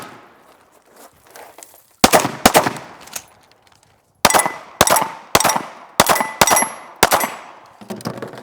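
Rifle shots from the Tactician Rifle fired in a loud, close series: two quick cracks, a pause, then a run of about eight sharp reports spaced roughly half a second apart, each with a short decaying tail.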